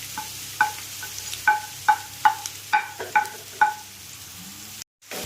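Chopped onions and curry leaves fry in a pan under a low sizzle while a metal spoon stirs them, producing about ten evenly spaced, ringing scrapes and taps close by before a brief cut to silence.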